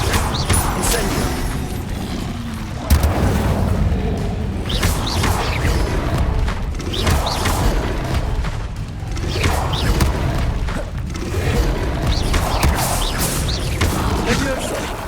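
Repeated Incendio fire spell casts in the video game Hogwarts Legacy, loud whooshing bursts and booms recurring every second or two amid continuous game action and mechanical effects.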